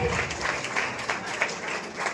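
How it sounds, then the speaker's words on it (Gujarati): Audience applause at an award ceremony, Gujarat Gaurav Award 2026, as a guest is called to the stage: steady, dense clapping from a crowd, continuous and fairly close throughout. "ફરીથી એકવાર તાળીઓથી વધાવીશું એમને આપણે."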